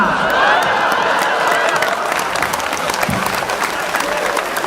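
Audience applause at a Hindi hasya kavi sammelan held for Holi, a dense steady wash of many hands clapping from start to finish, with crowd murmur mixed in.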